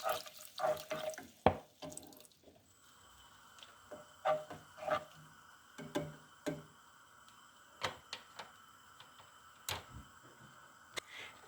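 Water splashes into a cooking pot for a bean soup in a short close burst, followed by scattered drips and small clinks from the pot.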